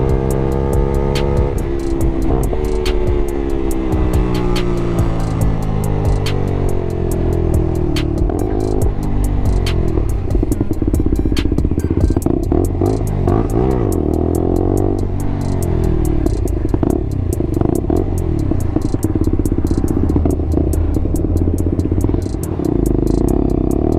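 Motorcycle being ridden, with a loud steady engine drone and shifting pitch as it revs up and down, constant wind rush over the whole ride and no talking.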